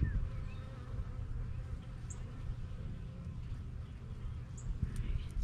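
Honeybees in an opened triple-decker hive drone in a continuous low buzz during a spring inspection, close and steady, with faint scattered higher buzzes from individual bees.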